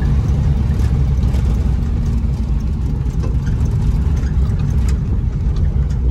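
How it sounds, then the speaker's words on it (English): Bedford HA van driving uphill, likely held in top gear, with a steady mid-pitched engine drone and road rumble that stay loud and close throughout, no voices. "this little van will just cruise along here"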